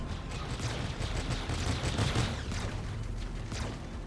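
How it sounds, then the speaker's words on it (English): Rapid spaceship gunfire from a Mantis ship in the game Star Citizen makes a dense, continuous crackling barrage at moderate loudness, with no voices. "All right, open fire."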